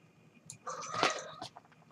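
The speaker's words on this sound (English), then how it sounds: "You can hear my cat squeal when she wants love and attention here." A cat gives a short, strained squeal, close and moderately loud, rising briefly and then fading.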